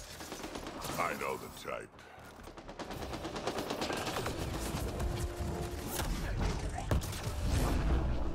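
A video game firefight in Mass Effect: Andromeda, with dense gunfire and mechanical clatter running steadily throughout, mixed with game sounds and a brief spoken line.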